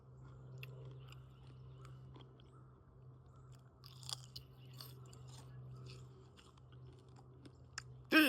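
Someone chews homemade smoked bacon close up, soft crunchy bites and wet chewing sounds repeating irregularly over a low steady hum, with no one speaking.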